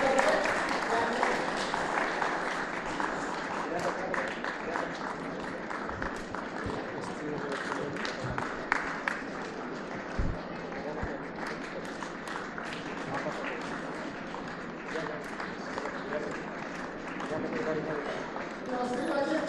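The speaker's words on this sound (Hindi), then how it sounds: "उसके बाद प्लस थ्री बच्चे ताली बजाते रहेंगे" A group of school children claps continuously during a school honoring ceremony for Purush Diwas, a dense patter of hand claps held at a steady level while voices talk over it throughout.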